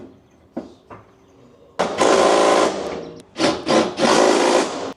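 A power tool whirs in bursts, driving the top bolts of a coilover on a 1997 Integra after the coil is jacked into place: a couple of short blips, then long loud spins with brief pauses between them.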